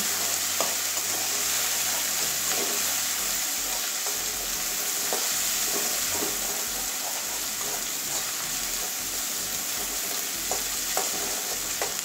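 Ginger-garlic paste and turmeric powder frying in a pan with a steady, close sizzle and hiss, punctuated by small pops and occasional scraping stirs, no voices.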